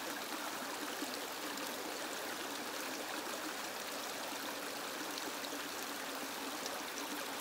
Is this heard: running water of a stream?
yes